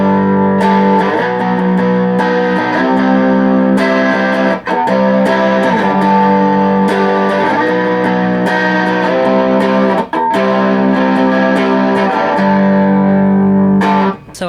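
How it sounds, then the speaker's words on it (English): Electric guitar played through a Way Huge Green Rhino fuzz pedal, thick distorted chords ringing loud and sustained with a few brief breaks, no talking. "I just turned on the Way Huge Green Rhino Fuzz."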